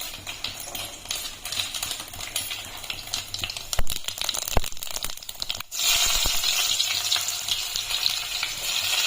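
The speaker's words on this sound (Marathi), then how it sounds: "आज मस्त कांद्यावरती फोडणी देणार आहे मी वरणला" Onion tempering crackling in hot oil for dal, a dense, loud spitting sizzle with sharp pops, briefly dipping before the frying surges back even louder.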